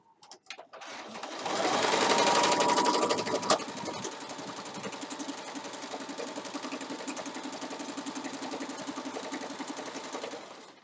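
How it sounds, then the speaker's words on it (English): A sewing machine whirs steadily at close range, starting with a brief rev-up and then running continuously with a fast mechanical chatter. "listens to strange noises coming from my sewing machine"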